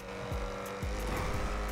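A Bugatti Divo sports car drives fast with a loud, continuous engine roar and repeated sweeping pitch changes as it accelerates and shifts, up close and with no talk.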